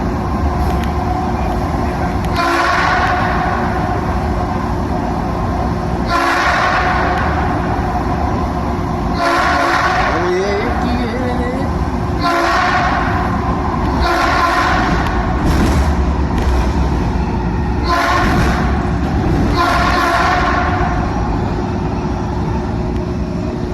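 An old train's horn sounds in several repeated loud blasts over the steady rumble of a moving Washington, D.C. Metro train, with no talking.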